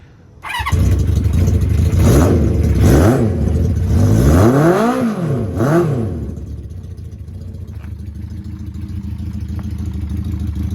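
A Honda CB350F four-cylinder motorcycle engine, fitted in a CB77 Superhawk frame, fires from a cold start and is blipped through several sharp revs before dropping to a steady, slightly uneven idle, loud and close.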